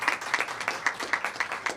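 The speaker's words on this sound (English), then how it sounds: "Please give him a round of applause." A small audience at a state press conference on the respiratory virus season claps in a sparse, rhythmic patter of distinct close hand claps.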